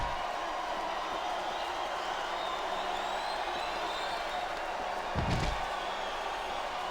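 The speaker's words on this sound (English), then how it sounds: "I think these superstars are getting some feedback from the crowd, JR." Arena crowd noise at a WWE wrestling match, a steady broad roar of cheering with a brief louder slam or burst near the end.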